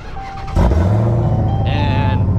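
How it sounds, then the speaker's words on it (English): A Dodge Hellcat Charger with a new setup fires up after a short quiet moment, its engine catching with a sudden loud burst and settling into a deep, steady, close rumble. "We're in the Hellcat. Let's get our first start with the new setup."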